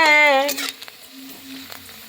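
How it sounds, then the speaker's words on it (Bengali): Fuchka puris frying in a very small amount of oil in a wok: a brief hiss of sizzling with light crackles, after a voice at the start. "সেই তেলে ফুচকা ভাজা হচ্ছে"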